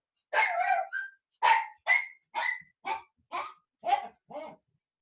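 Dogs bark indoors during a home CrossFit training session: eight sharp, loud barks in an irregular series, close to the microphone, with no talking over them.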